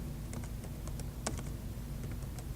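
A computer keyboard clicks in quick, irregular keystrokes as a file name is typed, faint and close against a low steady hum, with no talking.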